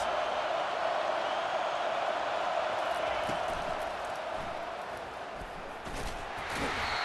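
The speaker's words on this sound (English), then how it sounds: "Listen to this crowd just shaking the girders of this place, trying to help their defense." A packed stadium crowd roars continuously in the College Football 25 video game during an Alabama vs. Georgia matchup, a broad, sustained wall of noise cheering on the defense, with a few faint thumps within it.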